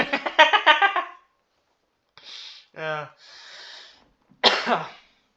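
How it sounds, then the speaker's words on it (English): A rapid string of coughs opens, followed by scattered wheezy breaths and throaty sounds, then another harsh cough burst, all close by. "I'm just coughing like crazy right now"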